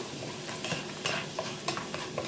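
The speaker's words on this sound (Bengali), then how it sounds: "সিসমি অয়েলে আমি 1 কাপ কাজু ফ্রাই করে নিব" Cashews fry in sesame oil in a pan, a soft, steady sizzle broken by repeated light scraping stir strokes, close and fairly quiet, with no talking.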